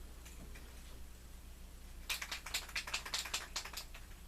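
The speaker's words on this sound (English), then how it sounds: "spray it, and I'll be right back" A spray can puffs fixative onto a pastel cloud drawing in a quiet room, a rapid series of short hissing bursts close by, following a stretch of faint background hum.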